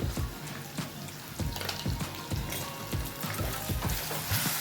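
Tamarind-leaf dal mixture with coriander powder fries in a pan with a steady close sizzle, and spoon stirs and scrapes tick through it at a roughly regular rhythm. No one speaks.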